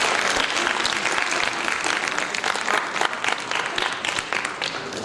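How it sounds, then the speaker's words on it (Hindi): An audience applauds a family on stage at a book release ceremony, dense sustained clapping from a crowd throughout. "इस परिवार के लिए तालियों के साथ अभिवादन।"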